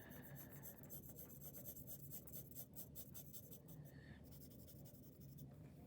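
Graphite pencil rubbing and scratching across paper while shading a Bargue drawing swatch, a steady dry rasp with short pressed strokes, close and fairly quiet, no voices.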